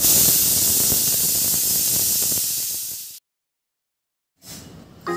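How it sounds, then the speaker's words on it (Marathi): A loud, harsh hissing whistle of a pressure cooker releasing steam for about three seconds, then silence before the hiss briefly returns. "इथे 3 किंवा 4 शिट्ट्या काढून घ्यायच्या आहे।"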